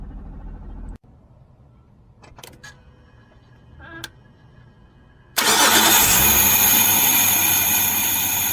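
A car engine, recorded inside the engine bay beside the clutch slave cylinder, suddenly fires up after a few seconds of quiet clicks and hums, then runs loud and steady at close range.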